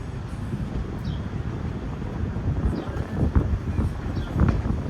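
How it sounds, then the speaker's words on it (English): Strong wind buffets the microphone outdoors in Kansas City, a loud continuous low rumble that swells in gusts, with a voice briefly heard beneath it. "It's so windy."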